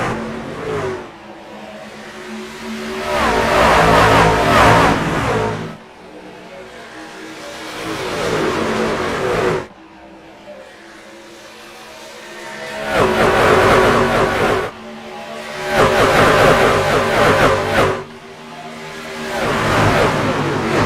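Race trucks at the Charlotte track in the iRacing video game roar up to speed at the green flag, loud engines rising and falling in repeated revving surges, with no talk over them.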